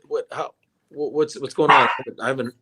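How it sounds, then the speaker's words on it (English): A pet dog barks and yips a few times indoors at close range, its bursts mixed in with a man's conversational speech. "excuse my dog"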